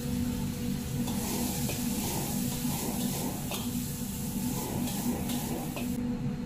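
Chunks of pork belly and bay leaves fry in a wok with a steady, close sizzle and faint stirring scrapes throughout.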